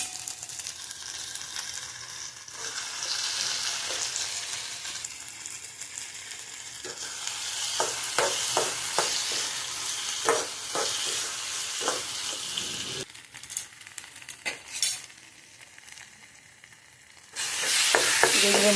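Spices (turmeric, salt, Kashmiri chilli, a little sugar) with slit green chillies sizzle steadily in a small amount of hot oil, with bursts of scraping, clattering stirring in the middle and a louder sizzle surge near the end.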